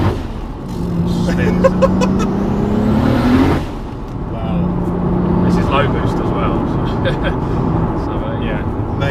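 Loud, sustained engine roar from a 720 bhp Toyota Supra with a 2JZ engine running low boost, revving hard as the tyres spin, with a brief lull partway through before the noise picks up again; voices are heard under it.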